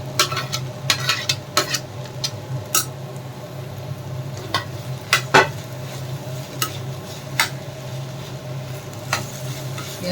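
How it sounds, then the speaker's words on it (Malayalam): A spoon stirs chopped ginger, garlic and capsicum in a pan over a medium gas flame, giving irregular scrapes and metallic clinks over a low steady hum and gentle sizzle, close up with no talking. "ഗ്യാസ് മീഡിയം ഫ്ലെയിമിൽ വെച്ചിട്ട് നല്ലവണ്ണം ഇളക്കുക"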